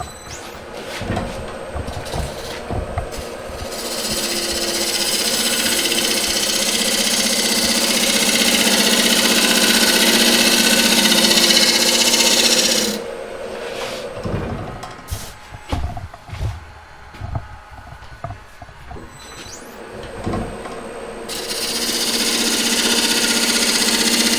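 A wood lathe turns an epoxy bowl while a skew chisel cuts along the tenon shoulder, with a loud steady whirring hiss that pauses for a stretch of knocks and handling sounds, then resumes.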